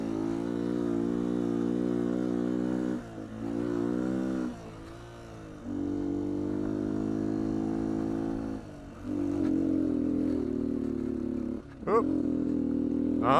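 A 2019 Beta 125 RR-S two-stroke dirt bike engine while riding, a loud buzzing note that holds, dips briefly between gear changes and revs back up repeatedly, heard close throughout.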